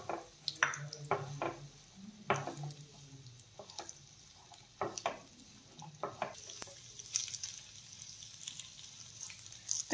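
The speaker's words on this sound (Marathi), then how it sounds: "तूप चांगले वितळलं की त्यामध्ये आता आपल्याला खजूर टाकून घ्यायचे आहेत आणि खजूर छान असे मऊ होईपर्यंत आपल्याला तळून घ्यायचे आहेत।" Dates fry in melted ghee for a dry fruit ladoo, giving faint, soft sizzling under scattered clicks and stirring scrapes of a utensil in the pan.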